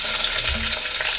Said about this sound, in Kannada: ಸ್ವಲ್ಪ ಎಣ್ಣೆ ಕಾದಿದೆ, ಸ್ವಲ್ಪ ಸಾಸಿವೆನ ಹಾಕ್ಕೊತೀನಿ